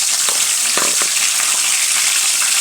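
Curry leaves dropped into hot oil while cooking a dhaba-style black-eyed pea masala, giving a loud, steady hiss and crackle throughout, with a few sharper spits early on and no talking.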